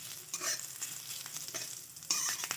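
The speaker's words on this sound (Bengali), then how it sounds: "আদা আর জিরে একসাথে ভাজা হয়েছে" Ginger and cumin frying together in a pan for a banana-flower mash make a soft, quiet sizzle, broken by a few scraping stirs of a spatula.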